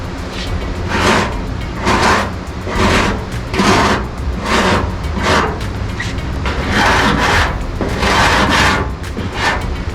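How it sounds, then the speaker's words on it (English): Rhythmic back-and-forth scraping of sandpaper on a block over body filler on a 1969 Dodge Charger's body, close and loud, repeating about every half second in steady strokes. "So now I'm just gonna sand down here a little bit."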